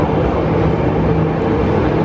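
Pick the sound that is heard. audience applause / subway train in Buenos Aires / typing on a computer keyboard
subway train in Buenos Aires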